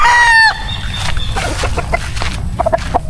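White Kelso gamefowl on a Philippine farm: a rooster crows loudly at the start, then hens cluck in short, close bursts.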